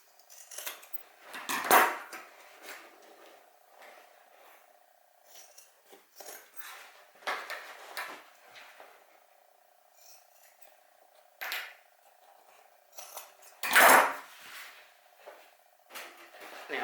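Scissors cut fabric for a crossbody handbag in a few sharp, close snips spread out over a quiet stretch, with soft handling rustles and a faint steady hum in between.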